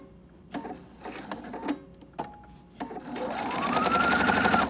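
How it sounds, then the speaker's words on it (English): A sewing machine stitches through a Bible cover in a few short bursts of quick needle clatter, then settles into a longer, steadier run that rises in pitch, heard close up with no talking. "I'm gonna go ahead and start sewing right here."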